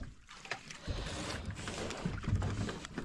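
A motor boat engine runs steadily on open water, a continuous low drone with splashing, heard fairly faint and alone.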